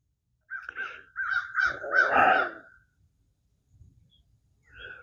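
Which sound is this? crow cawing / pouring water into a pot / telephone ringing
crow cawing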